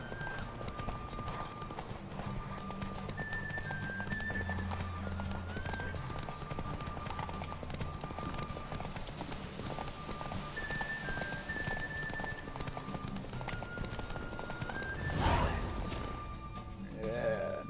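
Hooves drum in a steady galloping clip-clop from a horse in the video game The Witcher 3, continuous and mid-distance over a droning music bed, ending with a heavier thud.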